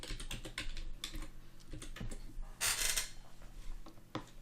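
Someone types on a computer keyboard, a quick close run of clicking keystrokes with a brief louder burst midway.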